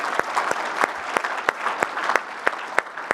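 An audience at the Bridgepointe Palm 2024 closing session applauds the event crew: steady, dense clapping from a crowd, loud and close, with sharp individual claps standing out throughout.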